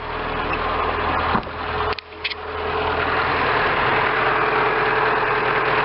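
A freshly reinstalled 1.2 engine in a 2001–2005 Renault Clio Dynamique runs at a steady close-up idle, with a brief knock or clunk partway through and no talk.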